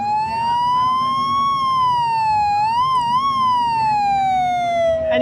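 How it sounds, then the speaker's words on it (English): A Eurorack oscillator module sounds a steady, loud sustained tone whose pitch drifts slowly up and down with a brief wobble midway, rich in harmonics and heard alone without talk. "you can hear the pitch of this oscillator drifting around"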